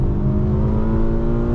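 The five-cylinder engine of a stage 2 Mk2 Ford Focus ST revs high and steady, a loud sustained growl with a rich harmonic hum and no pauses.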